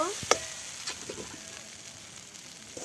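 Chickpea and pea ghugni is stirred in a pan, a soft close sizzle with a sharp clink of the spoon near the start and light scraping after.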